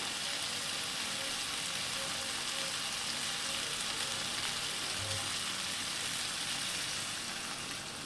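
A potato and bora curry sizzles steadily in the pot after water goes in, a soft even hiss and bubbling that stays faint and continuous with no talking.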